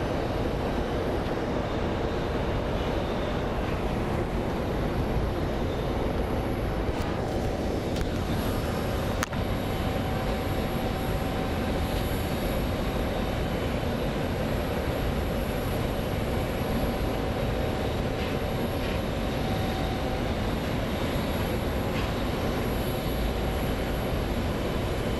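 A jet airliner at Phoenix Sky Harbor International Airport sends out a loud, steady engine roar with a broadband rumble and a faint high whine, holding constant at close range with no talk.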